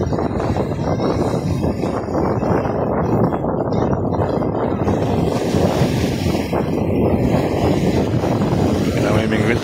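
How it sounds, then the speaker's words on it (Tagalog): Strong wind blows on the Manila Bay shore, buffeting the microphone with a loud, continuous roar and gusty rumble, with waves washing faintly underneath and no clear talk. "Sarap ng hangin dito"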